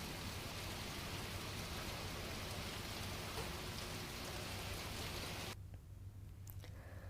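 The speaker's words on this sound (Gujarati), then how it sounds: "તાલાલા ગીરના માધુપુર અને ધાવા ગીરમાં વરસાદી ઝાપટા જોવા મળ્યા છે" Light rain showers falling steadily in Gir farmland in Gujarat, a dense, even hiss of drops that drops off sharply near the end, leaving a quieter patter.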